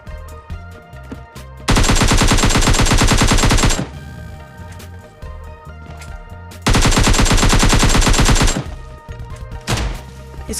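Assault rifle fire from an SKS and AKM in a battle royale video game: two long, loud, rapid automatic bursts of several seconds each, separated by scattered single shots and quieter game effects.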